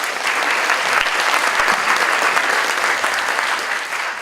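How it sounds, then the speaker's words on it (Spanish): Steady, dense applause from the audience at an academic panel presentation, loud and continuous throughout as a panelist is introduced, with no talking over it. "un aplauso para él."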